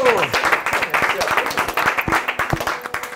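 An audience applauds the artistic director Enzo at a Geneva venue, steady clapping with distinct individual claps coming through and a voice over it at the start, thinning toward the end.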